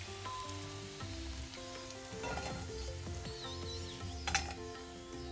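Fish pieces frying in hot coconut oil for a Kerala-style fish pickle, a steady close sizzle with occasional stirring scrapes and a brief sharper burst near the end, no talking.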